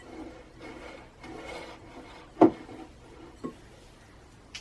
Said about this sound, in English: now we're going to scrape down the sides of our mixing bowl